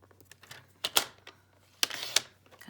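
A Stampin' Up! paper trimmer slices patterned paper: a few sharp, close snaps, with a short scraping rush as the blade slides across, against a quiet room.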